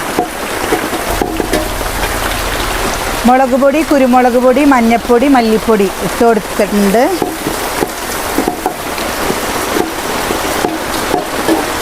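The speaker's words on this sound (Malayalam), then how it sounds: "മഴ ശക്തി പ്രാപിക്കുകയാണ് എന്താ അത് ശക്തിയിൽ മഴ പെയ്യുന്നത്" Heavy rain pours steadily around a home with a cooking hearth, a constant broadband hiss that runs the whole time beneath a person talking nearby.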